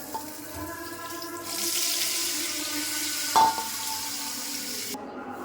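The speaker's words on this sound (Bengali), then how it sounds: "এখানে ফ্রাই প্যান দিয়ে চুলা ধরিয়ে দিয়েছি এখন চিংড়ি মাছটা ভাজা দেবো" Prawns sizzling in a frying pan on a lit stove, a steady close hiss that swells louder after the first second, with a single sharp clink near the middle and no voices.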